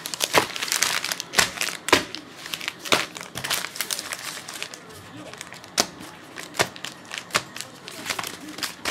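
Trading card packs are shuffled and handled close by, making dense, irregular crinkling and sharp rustling snaps that continue throughout.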